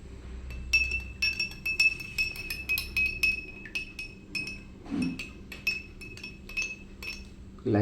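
A spoon clinks against a glass again and again while hypo bleach cleaning solution is mixed for white clothes, giving bright, close ringing taps in an uneven rhythm, with a soft knock partway through.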